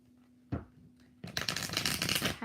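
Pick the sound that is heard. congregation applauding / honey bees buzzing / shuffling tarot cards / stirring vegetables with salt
shuffling tarot cards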